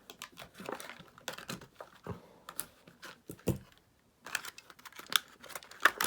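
A Hot Wheels Lancia Delta Integrale rally toy car is unpacked close up, with irregular crisp clicks, taps and crinkles of packaging in quick bursts and a short pause midway.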